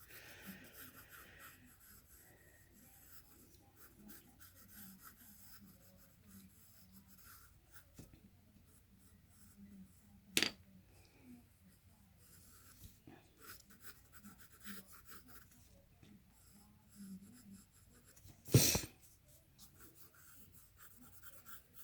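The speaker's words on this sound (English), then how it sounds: "I can go ahead and switch over to my B pencil, just not press down quite as hard" A B pencil shades a tree drawing on paper with soft, continuous rubbing and scratching strokes, faint and close, punctuated by a couple of sharper taps, with no talking.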